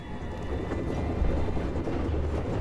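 Train from the TV series Interview with the Vampire rumbles along with a continuous low rolling roar and faint clattering of wheels on rails, steady and fairly close, no speech.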